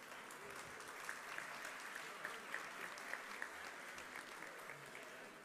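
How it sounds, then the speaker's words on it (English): Fairly faint, distant applause from guests at a university honorary degree luncheon, an even patter of many hands clapping with a few louder individual claps standing out. "let's give ourselves a round of applause"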